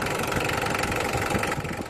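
A Mitsubishi Adventure engine idles steadily right after a timing belt replacement, a dense, continuous mechanical rumble with a faint knocking rhythm, close and alone with no voices.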